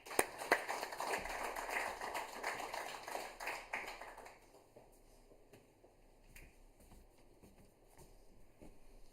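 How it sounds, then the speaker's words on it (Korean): A Korean church congregation at a Wednesday evening service applauds to welcome the pastor. Full clapping lasts about four seconds, then thins to a few scattered claps and quiet room noise. "박수로 모시겠습니다"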